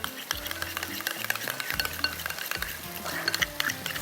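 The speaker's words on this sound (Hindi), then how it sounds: "इसी में मैं ज़रा सा मिक्स कर लेती हूँ दही को।" Yogurt being mixed into masala for foil-baked chicken: quick, continuous stirring with a spoon scraping and clinking against a metal pot, wet squelching in a busy, uneven rhythm, close and fairly loud with no talking.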